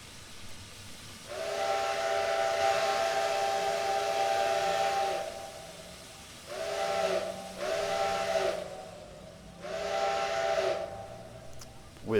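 A steam locomotive whistle from the train simulator Trainz 2022 gives one long blast and then three shorter ones, each bright and hissing over a quiet rumbling background, with no voices.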